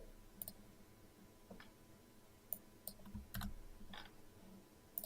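Sparse key presses click on a computer keyboard while someone types Java code in a programming tutorial, a few soft, separated taps and clicks over quiet room hiss.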